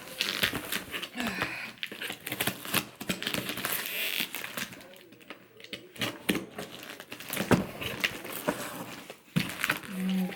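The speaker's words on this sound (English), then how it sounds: "I gotta put extra tape on it" Packing tape is pulled and pressed onto a package in a busy stretch of crackling, crinkling and ripping noises, close and fairly loud, with a voice talking intermittently underneath.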